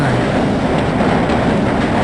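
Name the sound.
subway train passing in the video game Half-Life: Blue Shift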